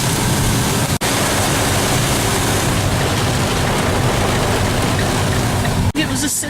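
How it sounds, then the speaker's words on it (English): Heavy rain pours down in England in a dense, unbroken roar of noise, loud and close, with two brief dropouts. "within minutes it's pouring with rain"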